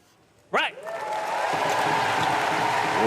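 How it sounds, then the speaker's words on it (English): Warm applause rises from the crowd at a Paralympic powerlifting event right after a heavy bench press lift, swelling into a steady, dense wash that holds, with a brief voice and whistle-like cry near the start. "Warm applause from the crowd."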